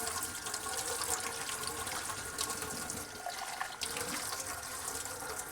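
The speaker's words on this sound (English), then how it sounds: "And now rinse the outside of the cup." Steady running tap water splashing over a cup, a continuous close rush of water with occasional sloshes as it is rinsed.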